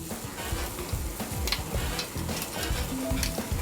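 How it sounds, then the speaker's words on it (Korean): Garlic fries in olive oil in a restaurant kitchen while clam vongole pasta is being made, a close, steady sizzle and crackle with clattering utensils and a couple of brief high tones in the background. "올리브오일에 마늘이 먼저예요"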